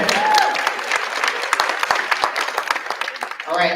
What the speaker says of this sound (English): All right, how about another round of applause for Ms. Jones?